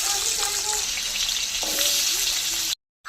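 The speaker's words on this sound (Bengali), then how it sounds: "চিংড়ি ভাজা তেলে আলুগুলো ভেজে নেব।" Potatoes fry in a wok of hot oil left over from frying prawns, giving a steady, close sizzle with faint stirring scrapes, and it ends in a brief cutoff.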